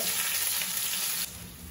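Shallots, garlic and ginger sautéing in a hot pan, a steady dense sizzle that holds close and even, then dips slightly softer toward the end, with no voices.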